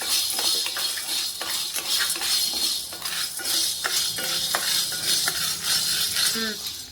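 Red chickpeas dry roasting in a pan, a continuous rattle of scraping and stirring with small clicks of the pulses against the metal, close, with a voice speaking over it.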